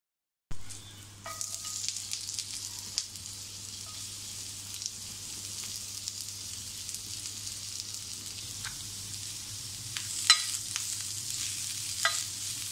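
Dry coconut, ginger and garlic roasting in a pan for egg masala, a soft, steady sizzle with scattered light scraping and stirring clicks, fairly quiet and close.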